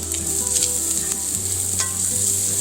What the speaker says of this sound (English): I'm going to go on and add my chopped sun-dried tomatoes.